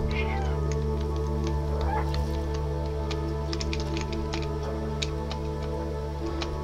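A cat meows in the video game Stray, thin and fairly faint over a constant loud low hum and background drone, with scattered small ticks and taps throughout.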